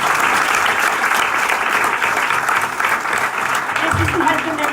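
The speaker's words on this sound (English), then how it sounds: "I think they need a round of applause" A crowd at a public meeting in Ferndale breaks into a sustained round of applause, dense clapping filling the room, steady and fairly loud throughout with a voice briefly audible near the end.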